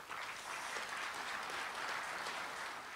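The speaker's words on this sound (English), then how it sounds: "Big round of applause for Malcolm Massey" A conference audience gives a steady round of applause, an even wash of many hands clapping at moderate volume with no one speaking.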